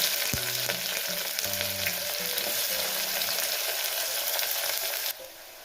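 Finely chopped onion frying in hot oil with two small bay leaves, a loud, dense, continuous sizzle close up that drops off abruptly near the end.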